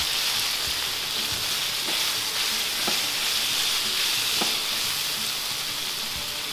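Spices and whole chili sizzle steadily in a hot pan, a continuous bright frying hiss with a few faint stirring clicks, the base for seafood cooked in coconut milk.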